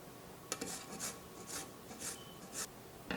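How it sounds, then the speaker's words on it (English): Fresh lemon scraped across a zester, a run of short rasping strokes in a quick irregular rhythm, close and fairly soft, with no talk. "So we're going to need 2 tablespoons of lemon zest."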